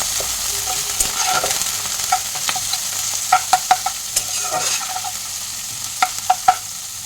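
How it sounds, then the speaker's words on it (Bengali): Cabbage leaves and two green chillies hit hot oil in a wok, giving a close, lively sizzle broken by repeated sharp clinks and scrapes of a spatula in an irregular rhythm, with no talking. "কড়াইয়ে তেল গরম হয়ে গেছে, আমি বাঁধাকপির পাতা আর দুটো কাঁচা লঙ্কা দিয়ে দিলাম।"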